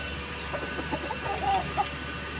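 An 11-month-old red-faced rooster gives a string of short, soft clucks at close range. The clucks come in quick, uneven bursts over a low background hum, with no talking.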